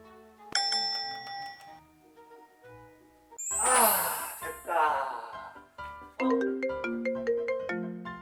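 A phone ringtone chimes for an incoming call indoors at home, its bright melodic tones repeating in bursts with short pauses between phrases, clear and fairly close.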